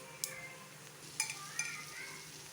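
Mustard seeds, dried red chillies and chana dal fry in hot oil in a pan for drumstick-leaf poriyal: a steady soft sizzle with a few sharp crackles and pops, close and fairly quiet.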